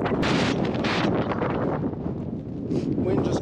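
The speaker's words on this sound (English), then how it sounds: "Wind just coming right up this valley." A strong wind blows up a mountain valley near a lake, roaring loudly and continuously into the microphone with gusty surges and buffeting.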